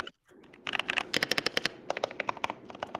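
Mechanical keyboard 1U keys with foam inside being typed on, a quick irregular run of muted clacky keystrokes, close and clear with no talking.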